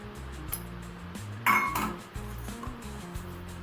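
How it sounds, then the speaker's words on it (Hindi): A big bowl handled in a home kitchen, with clinks and knocks of dishes and utensils, one bright ringing clatter in the middle, over a steady low background hum. "तो चलिए एक मैं बड़ा सा बाउल ली हूँ।"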